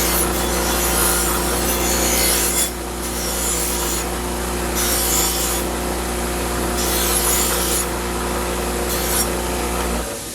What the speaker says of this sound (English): the first thing we want to do is just remove the rust scale with just a simple wire brush